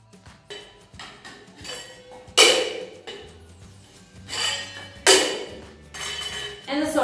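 Cocktail shakers and a bottle being flipped and caught in a bartending routine, giving scattered metallic clanks and sharp clattering hits at irregular moments, with two louder impacts standing out against quieter handling noise.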